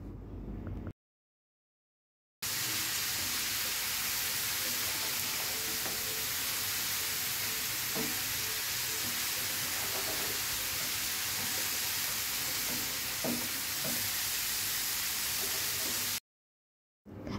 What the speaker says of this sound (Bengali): আস্তে আস্তে মিডিয়াম টু লো আছে হচ্ছে করলাটা ভেজে নেবেন